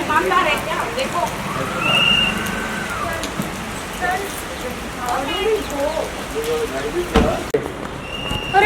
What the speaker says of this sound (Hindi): अरे बारिश हो रही है। बारिश तो बहुत ज्यादा हो रही है